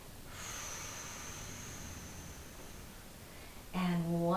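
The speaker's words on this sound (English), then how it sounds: "I exhale" Long soft exhaled breath during a mat exercise, a faint airy hiss lasting a few seconds, followed by a speaking voice close up.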